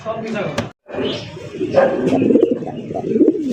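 Giribaj pigeons coo in low, throaty bursts close by, mixed with rustling and mostly masked by people talking over them.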